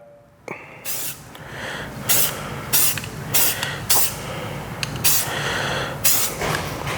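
A spray paint can from a hardware store sprays light coats onto a rifle, giving a series of short hissing bursts of about a second each, close and fairly loud, separated by brief pauses.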